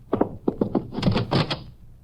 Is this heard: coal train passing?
no